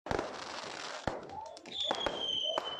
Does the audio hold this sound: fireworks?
yes